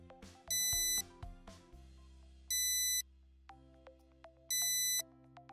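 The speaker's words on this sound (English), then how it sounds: "your device will ring once again" An electronic temperature alarm device beeps in three short bursts of a high repeating tone, separated by pauses with faint clicks and a low hum.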